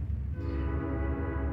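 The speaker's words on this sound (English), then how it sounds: "Of course a train would go by outside when I'm doing this." A train rolls past outside, heard indoors as a steady low rumble with sustained horn-like tones, continuous and moderately loud with no talking.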